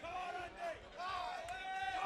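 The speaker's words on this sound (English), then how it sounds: "he has got himself a nice crowd here at BB King's" A boxing crowd at BB King's cheers and roars after a first-round knockout, a dense, sustained wall of voices and whoops filling the room at full volume for the whole stretch.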